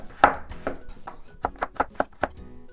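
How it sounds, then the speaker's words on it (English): A knife chops vegetables into strips on a cutting board: about nine crisp, close strikes, irregularly spaced with short pauses between them. "And then just kind of cut into strips"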